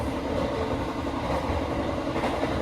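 Steady rumble of the new-generation Majapahit economy-class passenger train running between Jakarta and Malang, heard from inside the carriage as a continuous, loud roll with faint rhythmic clatter and no talking.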